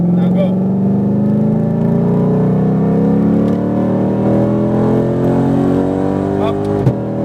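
A sports car accelerates hard out of a corner on a race track, its engine note climbing steadily in pitch and loudness before easing at the end, heard from inside the cabin.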